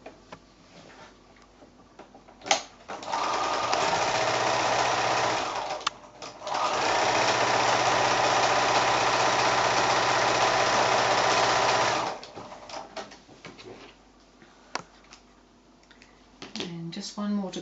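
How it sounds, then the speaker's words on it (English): A sewing machine stitches a quilt block made from 5-inch squares in two loud, steady runs of rapid mechanical whirring broken by a brief pause, with quieter handling sounds and a voice speaking before and after. "back to the sewing machine"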